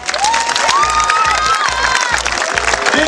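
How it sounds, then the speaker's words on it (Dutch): Applause and cheering from a crowd at a youth goalkeeper promotion day, with children's shouts and a loud, steady wash of clapping throughout, some voices rising above it. "deze een geweldig applaus voor"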